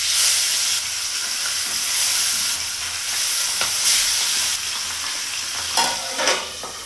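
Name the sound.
pabda fish frying in hot mustard oil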